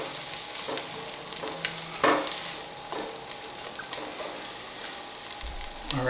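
Mirepoix of onions sweating in a soup pot gives a steady close sizzle and frying hiss, broken by several scraping stirs of a spoon, with no talk.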